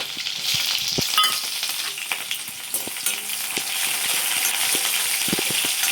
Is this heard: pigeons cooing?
no